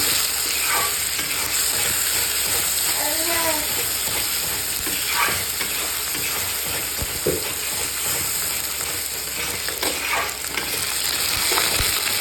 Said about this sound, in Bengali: বাবুর কালো জিরে পেঁয়াজ ফোড়ন দিলাম, বাবুর মাছের হালকা ঝোল হবে। টমেটো দিয়ে দিলাম